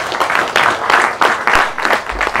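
Audience applause for the members of a prosecutor general confirmation hearing committee at a party meeting, with steady, dense clapping from a crowd of moderate size, heard alone and close.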